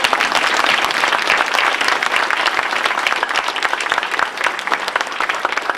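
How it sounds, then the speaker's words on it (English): Audience at a film event bursting into dense, sustained applause, many hands clapping loudly and evenly throughout without a break. "give these guys a round of applause for coming"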